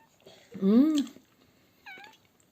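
A cat lets out one long drawn meow followed by a shorter second one, close and clear in a quiet kitchen.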